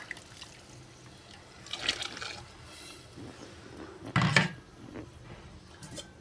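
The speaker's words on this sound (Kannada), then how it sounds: "ಇದ್ರಾಗ ಇನ್ನೊಂದು ಸ್ವಲ್ಪ ಉಳಿದಿದ್ದೆ ನೀರು ಹಾಕಿ ಹಾಕ್ಕೊಂಡು ಬಿಡ್ತೀನಿ ರೀ" Water is poured into a pan of chicken masala curry, making two short splashing bursts with faint utensil knocks against a quiet kitchen background.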